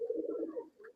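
Pigeons cooing, a Sri Lankan female and a copper-colored male, with one low rolling coo up close followed by a shorter softer note.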